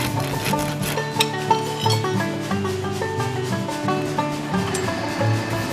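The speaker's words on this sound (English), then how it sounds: "what I'm doing here is just filing off the ragged ends of the cut so that they do not get forged into the final piece" A hand file rasps steadily across the ragged cut ends of metal stock in a blacksmith shop, with repeated rough back-and-forth strokes, close and continuous, with a faint metallic ringing beneath.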